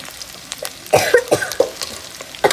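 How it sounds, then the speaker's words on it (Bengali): A person coughs repeatedly in short, harsh bursts, about six or seven coughs in quick succession, close by. "আমাগো কাশি হচ্ছে"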